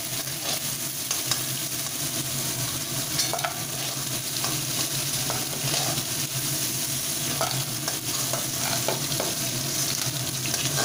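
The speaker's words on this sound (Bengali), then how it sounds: "ভালোভাবে একটু ফ্রাই করে নিচ্ছি" Crabs frying in oil in a pan over a lowered gas flame, a steady continuous sizzle with occasional stirring clicks and scrapes, close and even throughout with no talking.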